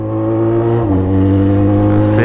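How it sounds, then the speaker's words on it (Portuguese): Loud motorcycle engine revving close by, a steady harmonic drone that climbs in pitch partway through and rises again near the end. "Curte moto barulhenta?"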